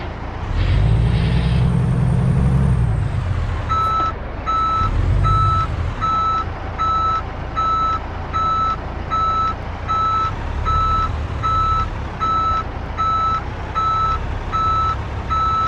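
Backing a trailer in Euro Truck Simulator 2 sets off a truck's steady, evenly spaced reversing beeps over the low engine rumble, with a hiss of air brakes near the start.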